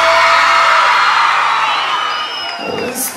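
A crowd at a live cumbia show yells, whoops and cheers in one loud, sustained roar that fades slightly toward the end.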